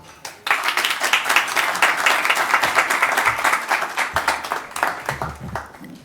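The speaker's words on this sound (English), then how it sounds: "Please join us in a warm round of applause" An audience at a Newsweek Horizons evening event applauds to welcome a speaker: a dense burst of many hands clapping starts abruptly, holds steady, then thins into scattered claps with a voice beginning underneath near the end.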